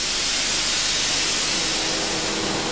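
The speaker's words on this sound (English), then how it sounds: "The steam passes through turbines which drive alternators." Steam hisses loudly and continuously in the engine room of the steamship SS Canberra, a dense broadband rush with no voices.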